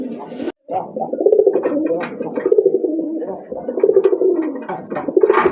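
Pigeons kept for sale, including racing birds, cooing repeatedly up close in rolling, throaty phrases with short pauses and no talk over them.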